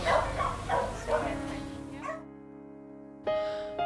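Dogs at an SPCA animal shelter in Ampang give a few short barks and yips amid indoor background noise, followed by a sustained electronic-like tone and a brief sharp sound at the end.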